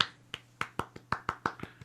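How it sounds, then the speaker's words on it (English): Sparse, half-hearted applause scattered through a room after a speech, a handful of separate claps spaced unevenly over about two seconds, fairly faint with a steady low hum beneath. "sort of like half-hearted applause happening through the entire room"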